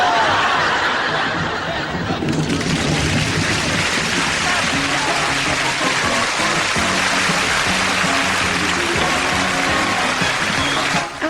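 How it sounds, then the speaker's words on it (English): Steady rain pouring down, a dense continuous hiss that grows fuller after a couple of seconds and holds loud and even throughout, with no talk over it. "rain."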